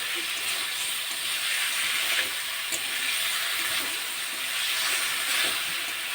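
Potatoes sautéing in a pan for an Bengali egg bhapa dish, a steady loud hiss of frying that fills the whole clip with no break.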